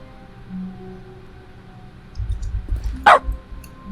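A single sharp dog bark rings out after the console Bark command is typed in The Stanley Parable, loud and close. Low rumbling comes just before it, over a quiet background.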